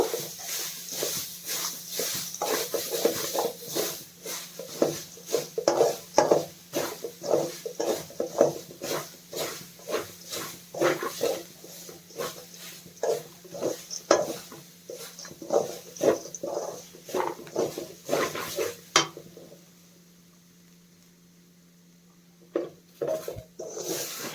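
Grated coconut being stirred and roasted in ghee in a pan for coconut laddu, a steady run of soft scraping and pattering strokes close up, pausing briefly near the end before resuming.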